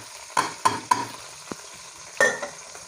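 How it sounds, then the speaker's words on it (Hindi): Garlic, green chili, salt and red chili dropped into a hot pan, giving four sharp sizzling bursts with stirring scrapes between them, close and fairly loud with no talk. "अब हम इसके अंदर ये लहसुन और ग्रीन चिली और नमक और सुरख मिर्च डाल"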